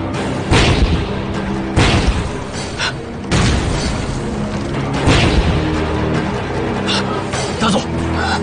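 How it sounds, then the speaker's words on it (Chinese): Heavy explosions in a war film boom in several loud, deep blasts, with rumbling and debris between them, set among battle noise and voices. "爆炸的方向是？"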